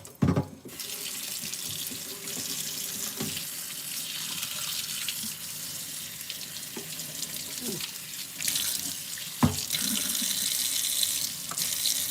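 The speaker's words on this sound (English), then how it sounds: "Rinse this out." Tap water runs steadily into a sink as the metal inner pan of an Instant Pot is rinsed, with a few clunks and splashes of the pan against the basin, close by and continuous.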